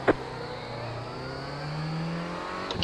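Renault Clio race car engine revving and accelerating hard off the line at a race start in a racing video game, a steady rising engine drone with a brief click at the start and end, no talk.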